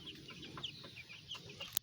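Chickens in a small, damaged backyard chicken coop cluck softly and intermittently in the background, with faint short calls over quiet outdoor ambience.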